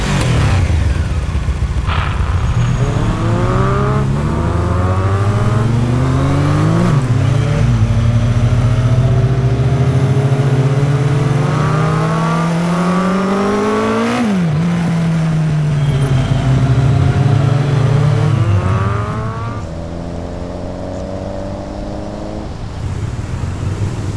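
Vehicle engine revving in a Minecraft game, a loud close engine climbing repeatedly through rising gear-like sweeps, then settling to a lower steady hum.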